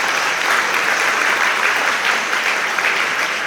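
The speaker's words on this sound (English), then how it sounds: "So please clap for yourselves today." Applause from the audience at a new members' ceremony in Liverpool, an even, busy patter of many hands clapping at steady loudness throughout the short stretch.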